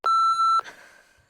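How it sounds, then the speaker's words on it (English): A single loud, steady electronic beep from a timer sounds for about half a second, then fades into a faint ringing tail in a quiet room. "I'm just doing a running timer"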